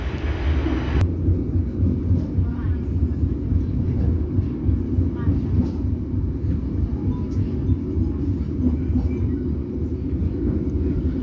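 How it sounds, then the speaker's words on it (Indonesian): Mutiara Timur business-class passenger train running near Wonokromo station, heard from inside as a continuous heavy low rumble and roar of wheels and carriage, steady and loud throughout. "sekarang kereta api Mutiara Timur sedang berjalan langsung di stasiun Wonokromo"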